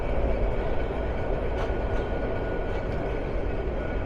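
Passenger train at Jamalpur Town railway junction, a steady low rumble of rail cars and wheels, moderately loud and continuous with faint clanks.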